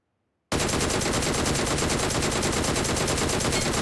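Sustained automatic gunfire from the mobile game PUBG Mobile bursts in after a half-second of silence and rattles on loud and continuous, a rapid dense stream of shots with no pauses.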